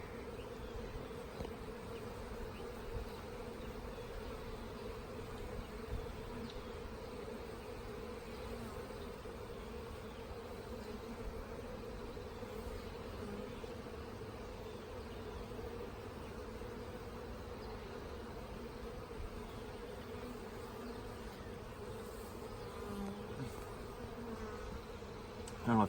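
Honey bees buzz around an open nucleus hive, a continuous, dense, steady drone that holds at an even level throughout, close by and without any voices.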